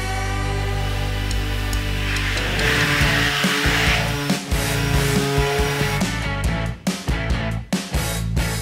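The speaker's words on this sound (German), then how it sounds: "Der Multifunktionsaufsatz mit dem passenden Tauchsägeblatt ist ideal dafür." Cordless Parkside multifunction tool with a plunge saw blade cuts fiberboard, a loud buzzing rasp that runs steadily, then breaks into stuttering bursts as the cut finishes.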